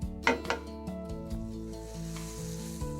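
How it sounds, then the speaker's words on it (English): Olive oil and butter hitting a hot pan, a loud burst of sizzle at first that settles into a steady close hiss, with a light clink of a utensil early on, no talking. "my pan is good and hot now. So I'm going to add about a tablespoon of olive oil. And about that much butter."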